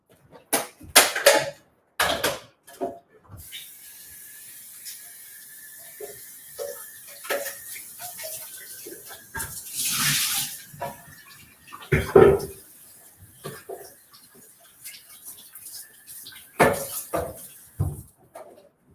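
Water splashes and runs while a kitchen blender jar is rinsed out, with bursts of sloshing and the knock and clatter of the container against the sink between quieter stretches.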